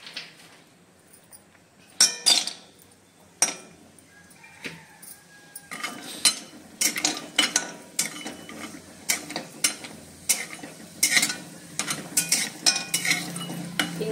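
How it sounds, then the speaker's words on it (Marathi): A utensil scrapes and clinks steadily against a pan while asafoetida (hing) is dry-roasted and stirred, the close metallic strokes coming in irregular bursts over a quiet background. "आता मी हे काढून घेते आणि हिंग भाजून घेते"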